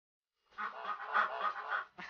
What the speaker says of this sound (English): Those ducks are looking hungry.